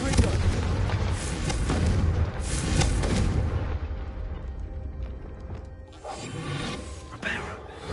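The Confringo blast spell fires in the game Hogwarts Legacy. It comes as a loud, dense run of booming explosive bursts with rumbling low end, dense at first and then thinning out, with a further burst near the end.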